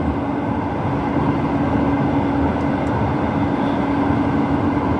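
Inside a moving Jakarta LRT light rail train between Kampung Rambutan and Dukuh Atas, a steady, loud rolling rumble and hum from the carriage continues unchanged, with no talking.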